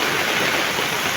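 Heavy rain pours down in a mountain area, a dense, steady roar of water with no let-up from start to end, loud and close.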